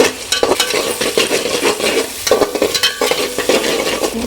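Onions frying in a hot pan give a loud, close sizzle, cut through by rapid scraping strokes of a spoon stirring them.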